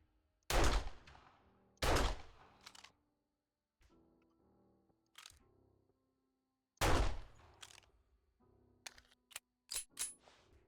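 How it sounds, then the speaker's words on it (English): Gunfire while shooting zombies in the video game 7 Days to Die: a few loud, sharp shot bursts with short decaying tails, separated by quiet gaps, then a quick run of smaller pops near the end. "Why are you shooting random zombies?"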